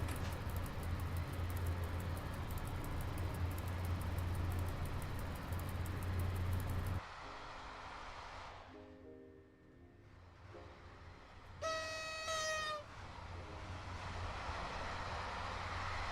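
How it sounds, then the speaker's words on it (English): Train coaches in the SimRail railway simulator coast along, giving a steady rolling rumble and rattle for about seven seconds, then a quieter low run with a brief tonal whine near the middle before the rolling noise returns. "All I'm hearing is running sound from the coaches."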